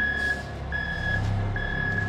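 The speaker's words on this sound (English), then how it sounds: "So Dutch is just going to back out" Concrete truck backing out at a footer pour site, its reversing alarm sounding three evenly spaced beeps over a steady diesel engine rumble, fairly near and with no talking.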